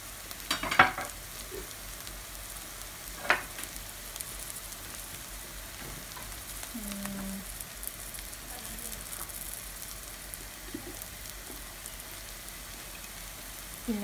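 Spices for a prawn curry sizzle and fry in a pan while being stirred, a soft continuous crackle with a few sharper scraping taps, quiet and close with no talking.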